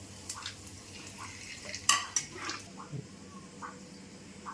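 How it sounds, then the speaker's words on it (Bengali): Whole cumin, two bay leaves and whole garam masala being stirred in a cooking pan, with faint scraping and a few light metallic clinks of the spoon against the pan. "সব কিছু মিক্স করে"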